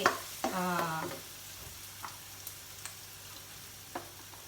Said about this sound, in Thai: เราเจียวกระเทียมพอประมาณนะคะ